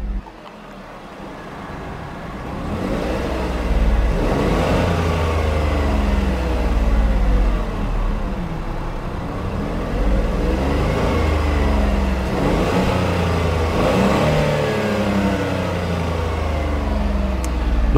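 The 1.0-litre engine of a 2018 Smart ForTwo 453 Prime Premium idles and revs just after start-up, a steady close low rumble with a few gentle swells in pitch and loudness, heard alone without talk.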